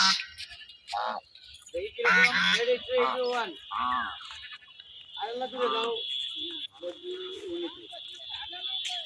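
Several geese honk in loud, nasal bursts close by, calling on and off with a high steady whine in the background.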